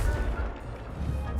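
A Confringo fire-blast spell in Hogwarts Legacy gameplay, a deep, booming, rumbling burst that sustains loudly for just over a second.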